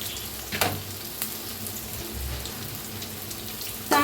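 Ground masala paste fries in a pan for a rustic eggplant dish, a soft continuous sizzle broken by a few sharp pops and scraping stirs.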